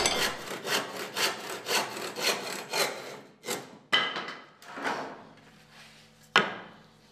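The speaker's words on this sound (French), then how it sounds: "À côté des poutres, il faut aussi scier les lattes." A handsaw cuts through a thin wooden slat in quick, regular rasping strokes, close and loud. The strokes thin out into a few scrapes and sharp knocks as the piece comes free.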